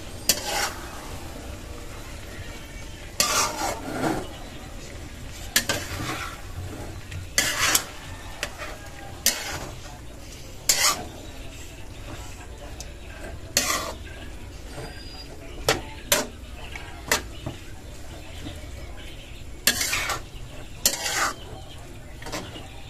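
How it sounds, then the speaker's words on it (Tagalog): Ampalaya (bitter gourd) sautéed with egg being stirred in a pan, with repeated scraping and clattering strokes of a utensil at close range over a low background hiss. "at atin na pong hahaluin"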